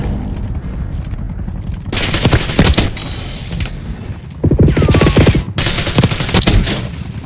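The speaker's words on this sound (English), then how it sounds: "HVT is taking fire" Heavy automatic gunfire and explosions from Black Ops 6 multiplayer, loud sustained bursts building in two waves with brief lulls, crackling close by and dominating the mix.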